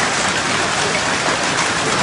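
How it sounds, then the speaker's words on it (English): Huge hailstorm sweeping across Australia, a dense, steady roar of hailstones pelting surfaces with no pauses. "a huge hailstorm swept through several states"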